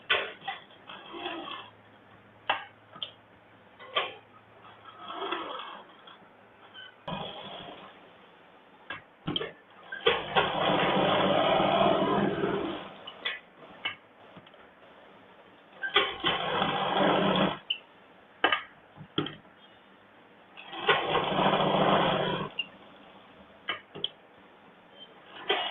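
A sewing machine top-stitches the lining of a princess-cut blouse, with several loud sustained runs of stitching separated by pauses and small handling clicks.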